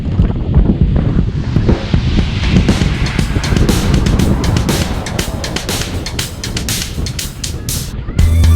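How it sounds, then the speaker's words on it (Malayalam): Strong wind roaring and gusting hard against the microphone at a sea fishing spot, loud and continuous with sharp crackling bursts throughout. "കാറ്റ് ഭയങ്കരമായിട്ടുണ്ട്"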